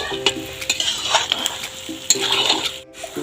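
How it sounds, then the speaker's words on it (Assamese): Duck meat, cooked over a wood fire for duck curry with ash gourd and potato, sizzles in a pan while a utensil scrapes and stirs it in repeated close clattering strokes. "এনেদৰে লৰাই কিছু সময় ধৰি হাঁহৰ মাংসখিনি ভাজিব"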